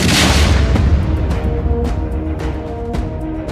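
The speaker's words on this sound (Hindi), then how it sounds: "ड्रोन कैमरे से बनाए गए इस वीडियो में आपको आग के गोले वाला धमाका दिखेगा।" A loud, deep explosion with a fireball booms at the start, then a heavy rumble lingers and slowly fades, with a faint steady hum underneath.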